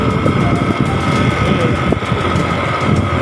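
A motorcycle engine runs steadily while riding, with a loud continuous hum mixed with wind rush and road noise and no clear gear changes.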